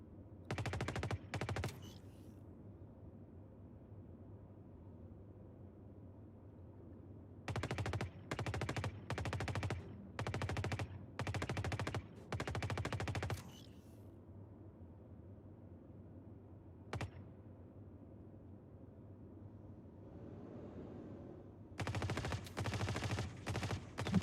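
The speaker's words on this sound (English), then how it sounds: "It's me shooting inside the ship." Bursts of gunfire inside a ship in the video game Star Citizen, rapid automatic volleys in clusters at the start, middle and end, loud and close, separated by quiet stretches with a single isolated shot.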